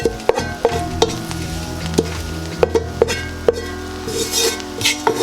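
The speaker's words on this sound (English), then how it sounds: "I'm just going to fry here in a little bit of oil" Onions frying in a little oil for vegetable pilau rice, a steady sizzle under repeated sharp clinks and scrapes of a utensil against the pan, close and fairly loud, with no talking.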